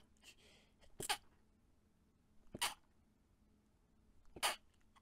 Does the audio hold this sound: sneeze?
yes